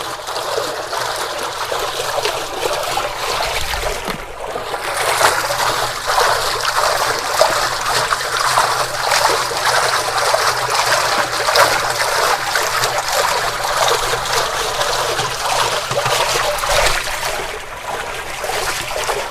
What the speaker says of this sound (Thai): ตอนนี้เราก็เปิดไดโวไดโวทำงานแล้วนะครับ